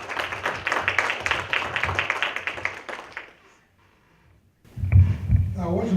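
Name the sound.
applause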